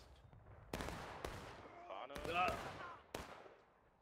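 Sharp musket shots crack out in the American Civil War game War of Rights during a forest stream battle, a handful of loud separate reports spaced irregularly, with voices talking between them.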